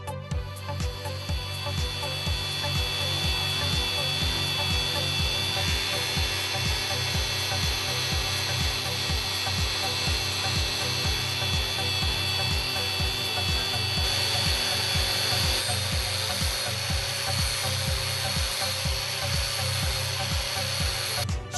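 A power tool spins a Blendex disc at 5,000 RPM to smooth a flat sanitary stainless surface toward a brushed #4 finish, a loud steady whirring grind with rhythmic pulsing, continuous and close, no talk.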